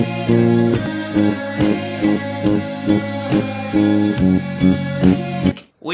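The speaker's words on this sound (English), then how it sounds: "We have the bass line that is pretty much playing the bass notes in the" Bass line from a song playing the root notes of the chords, a steady, loud low-end pulse in a full mix with regular percussive hits, cutting off abruptly near the end.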